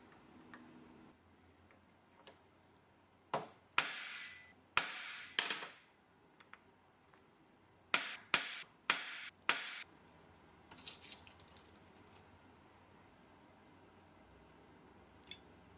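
Sharp metallic hammer strikes on a punch stamping a steel washer ring out in two bursts, a few spaced blows then a quicker run of five or six, with faint taps after; no talking.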